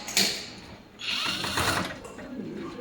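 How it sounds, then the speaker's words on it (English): Screws being removed from the pickup door of a robot machine: a short whirring burst from a driver, then a longer stretch of grinding mechanical noise, close and moderately loud, with faint talk nearby. "First we remove these screws."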